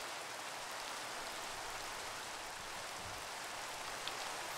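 Steady rain in Minecraft, a continuous even hiss of falling drops with no breaks, heard alone at moderate loudness.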